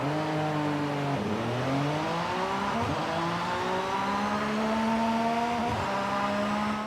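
A Porsche 911 GT3 R race car in Forza Horizon 5 roars loudly and steadily, its engine pitch climbing through several quick gear changes, each shift marked by a brief dip before the revs rise again.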